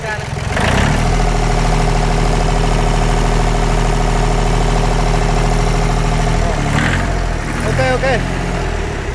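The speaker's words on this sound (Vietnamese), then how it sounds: "Chiếc nào cũng nổ máy ngon lành luôn." An L1-18 engine idles after starting, a loud, close, even chugging drone that holds steady before shifting slightly near the end.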